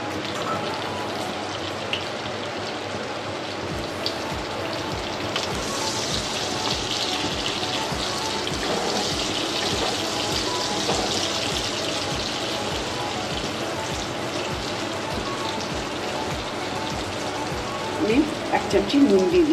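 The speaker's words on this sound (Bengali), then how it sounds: "আমি তেলের উপরে 2টো শুকনো লঙ্কা ফোড়ন দিচ্ছি" Two dried red chillies and nigella seeds sizzle in hot oil for a Bengali dish, a steady close hiss with dense crackling that swells midway and ends with a few louder spits.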